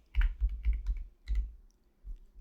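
Keys on a computer keyboard clack in a quick, uneven burst of about six close keystrokes as a short name is typed, then one last tap after a brief pause.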